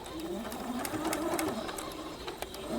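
Steady close whir of a sewing machine running a swinging zigzag stitch over fused appliqued fabric, continuous with a faint rhythmic ticking of the needle, no talk over it.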